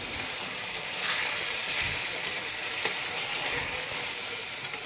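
Yogurt, water and spice batter sizzles steadily as it hits chicken masala in a kadai over a high gas flame, a continuous close frying hiss with faint stirring clicks and no voices.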